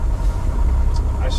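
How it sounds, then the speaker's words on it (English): A 2001 Western Star 4964EX truck engine runs with a steady low rumble and a mild rise in revs, close and loud throughout, with no clear separate bursts. "lower the RPM, lower the road speed, and then just rev it"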